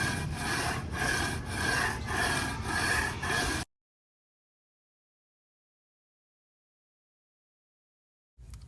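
Sandpaper rubs back and forth across a Honda CR-V cylinder head, a rhythmic scraping of about seven strokes, then a long silence before a brief return.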